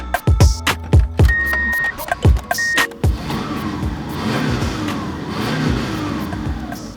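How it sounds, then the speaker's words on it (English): A Subaru Legacy with a stalling fault is started up close by: a few sharp starter bursts crank it, then the engine catches and settles into a steady, slightly rough running drone. "Let's start the car up, see if this made any difference."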